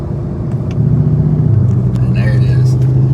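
A Shelby GT500's engine rumbles steadily from inside the moving car, its low exhaust drone swelling louder as the valves open up, with a person talking over it.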